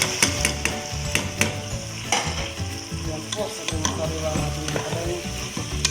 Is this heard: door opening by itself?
no